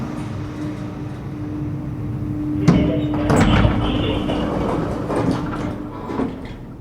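A thick metal double door opens with a sharp clunk, then a rumbling, grinding slide over a steady low hum, fading into a quiet interior.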